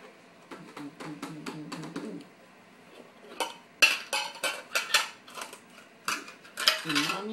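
A baby bangs pots and pans, making bright metallic clatters, first a quick run of small taps, then louder irregular bangs and clanks spread over several seconds with brief pauses between.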